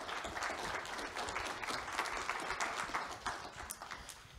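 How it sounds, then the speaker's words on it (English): Audience applause following a technical conference talk, a steady spray of many hands clapping at moderate volume from the room, continuous and unbroken, without speech. "Give him a round of applause."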